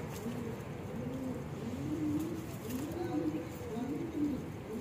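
Old pigeons coo in soft, wavering rolls that rise and fall over a steady background hum, faint and somewhat distant.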